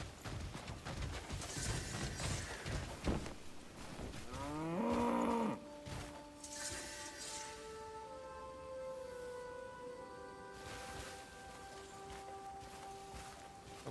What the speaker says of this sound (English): I just want to kill a cow.